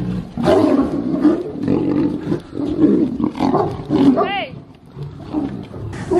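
A young tiger snarls and roars repeatedly in loud, rough bursts while fighting a pitbull, with growling and scuffling noises between the roars.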